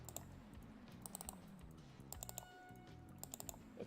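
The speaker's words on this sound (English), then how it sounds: "Where's the mouse duck? Oh, it makes a clicking sound." Small clicks from the mouse duck in the Placid Plastic Duck Simulator game, crisp double-click pairs recurring at irregular intervals over a faint background, quiet and with no speech.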